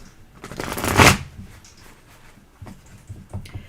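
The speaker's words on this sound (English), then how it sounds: "You shuffle first." A deck of tarot cards gets shuffled up close, one quick riffling burst swelling and cutting off, followed by a few soft taps and handling sounds.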